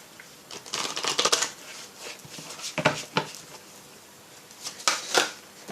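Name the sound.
shuffling tarot cards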